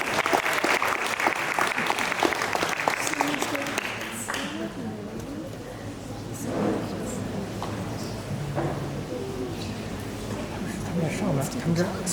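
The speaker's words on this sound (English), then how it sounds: "Please, a big round of applause." An audience applauds after a dance introduction at a Friendship Society event, dense clapping for about four seconds that thins into scattered claps, crowd murmur and voices talking.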